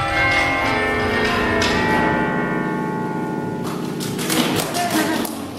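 Bath Abbey's church bells rung one after another as a simple scale, clear ringing strikes overlapping with long sustained tones, loud and resonant, with heavier clanging and thumps of the mechanism toward the end.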